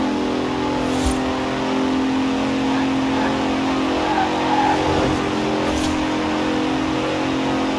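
A 2017 Bentley Continental Supersport in Forza Horizon 4 drones with a loud, steady engine note that rises in a revving swell midway, with faint brief clicks near the start and end.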